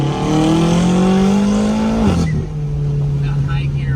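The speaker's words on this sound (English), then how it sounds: "I don't like how the exhaust sounds anymore. It's not as like Like loud or it's loud, but rumbly, right?" A tuned BMW M6 rumbles loudly as it accelerates, its engine note climbing steadily, then dropping abruptly as it shifts up and settles into a lower drone. A voice talks over the engine.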